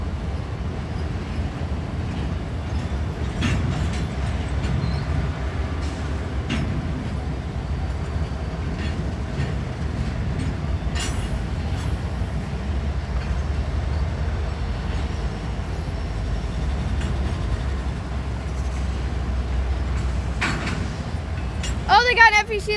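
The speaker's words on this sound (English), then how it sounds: "they got an FEC locomotive behind it. I was wondering what all that noise was." FEC freight locomotive moving through Bowden rail yard in Jacksonville; a continuous low diesel rumble with rolling rail noise and occasional clanks, heard from nearby, with a brief wheel squeal near the end.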